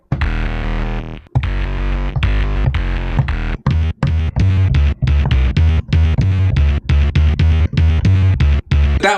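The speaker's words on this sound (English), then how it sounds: "Let's turn on Crusher, and then on bus 2, let's get some crazy distortion." A kick drum on an SP-404 MK2 sampler, run through bitcrusher and distortion effects, pounds in a fast repeating pattern, heavily distorted, crushed, gritty and loud, with short gaps between bursts.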